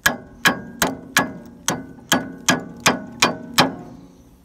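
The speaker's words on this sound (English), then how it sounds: "each hit of the hammer, it moves, you know, a fraction of an inch maybe" Hammer blows struck on a Timberking 1220 sawmill wheel belt to work the twist out of it, about ten sharp, evenly spaced metallic-edged knocks, close and fairly loud, with no talk.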